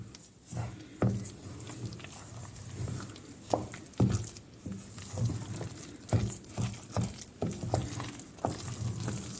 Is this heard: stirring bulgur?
yes